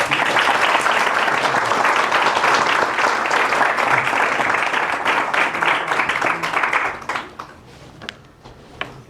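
Sustained audience applause at a Spanish-language talk, dense and steady for about seven seconds before thinning into scattered claps and fading out.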